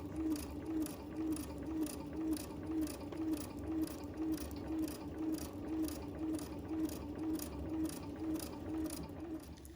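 A sewing machine stitching around a vinyl bag with tape under the presser foot, running at a steady even rhythm of quick mechanical clicks and a low whir, close and quiet, no talking.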